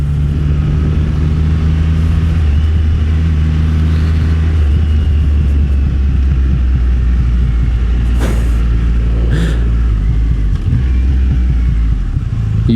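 A Triumph Rocket 3R motorcycle in sport mode rumbles loudly on the overrun with a deep, continuous engine drone heard up close, plus a couple of brief higher crackles.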